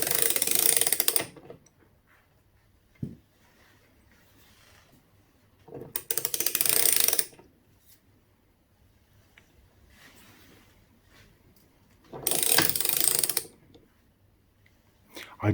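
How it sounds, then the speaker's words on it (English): A 1/2-inch ratchet clicks rapidly in three loud, close bursts as it removes thread-locked footpeg mount bolts from a Suzuki DR200 motorcycle, with quiet pauses between the bursts and a faint knock during one pause. "I do like that 1/2-inch ratchet power bar thing."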